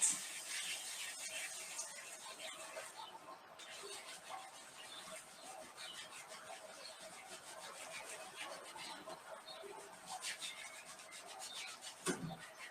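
Hands rubbing briskly together to warm up during a taiji sword practice session, a soft, quiet continuous dry friction hiss at low level, with a brief bump near the end.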